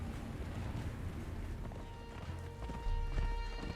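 A horse gallops across sand in the video game Conan Exiles: a continuous run of hoofbeats over a windy background hiss that grows heavier near the end, with no talk.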